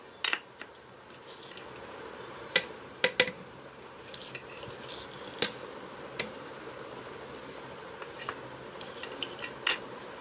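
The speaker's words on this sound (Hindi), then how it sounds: "मैंने ओरियो बिस्किट का पाउडर डाल दिया है" A spoon clinks against a glass while crushed Oreo biscuit powder goes into a homemade milkshake, giving scattered sharp metallic taps and light scraping at an irregular pace, close but fairly quiet.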